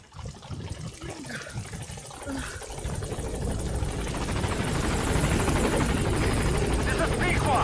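The B-Quad helicopter in Metal Gear Solid V, arriving at a landing zone, with a steady rotor thrum that grows louder and closer over several seconds while a voice speaks over the start.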